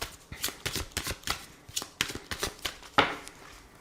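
Tarot cards are shuffled for a nine-card reading, a close, quiet run of rapid riffling flicks and soft slaps in an uneven rhythm, with one sharper card snap near the end.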